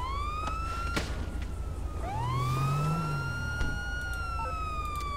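A police car siren in the video game GTA V wails, sweeping up and down continuously, joined by a second rising tone midway, loud and close over a low engine rumble.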